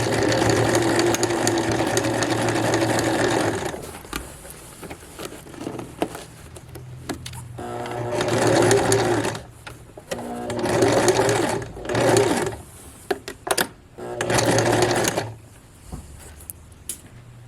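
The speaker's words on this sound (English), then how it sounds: "I'm going to go to the machine, start here, back stitch, go down tracing this line" A sewing machine stitches a modesty panel into the back of a formal dress, loud rapid whirring runs in several bursts with pauses, short back-stitch starts and quiet handling between them.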